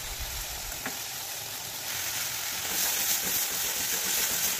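Ground coriander, cumin, chili powder and turmeric sizzle with chopped green chili in a hot pan, a steady crackling fry that grows a little louder partway through, with no talking.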